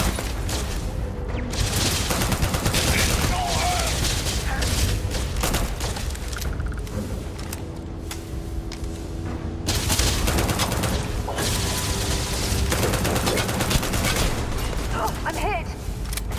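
Rapid bursts of gunfire from the Starfield video game on PS5, dense and continuous throughout, with booming impacts layered in and no voices heard.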